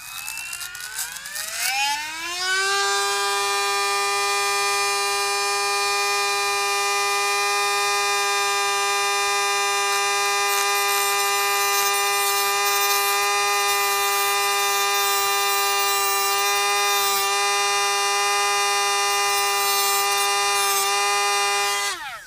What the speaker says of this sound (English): I'm going to take a Dremel cutoff disc and I'm going to cut a slot in this first one right in the middle.